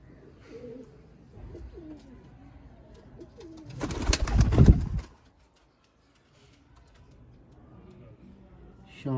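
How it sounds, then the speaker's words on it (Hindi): A Sialkoti breeder female pigeon gives a short burst of close, loud cooing and wing noise. Someone talks before and around it. "सियालकोटी पिजन्स के शौकीन भाइयों के लिए।"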